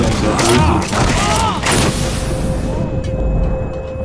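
Guns fire in the online game Nosgoth in loud, dense bursts that overlap with booms and mechanical clatter, and a player's voice talks over the action.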